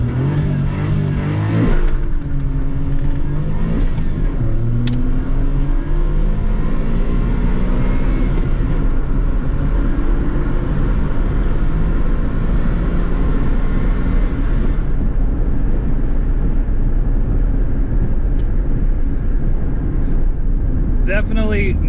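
A 1995 Suzuki Alto Works RS-Z kei hot hatch accelerates from 0 to 60 on old, worn tyres, its small engine droning and rising through the gears, loud and close, with voices talking over it.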